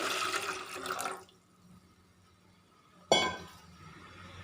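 Water pours into a tea pot for about a second, then stops; after a pause a sharp clink rings out, followed by a fainter splash.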